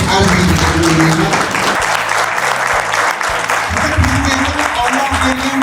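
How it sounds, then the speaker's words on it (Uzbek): Loud, sustained audience applause for the president: thick, continuous clapping from a large crowd, with voices audible underneath throughout. "Shu birinchi qarsakni muhtaram prezidentimizga qarsak chalsak arziydi."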